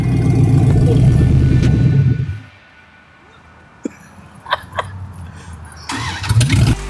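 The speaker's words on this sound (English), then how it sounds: "This is the episode where we start the truck for the first time." A second-generation single-cab pickup truck's newly installed engine cranks and rumbles loudly on its first start, cuts out into quiet with a few clicks and scattered noises, then catches again and revs.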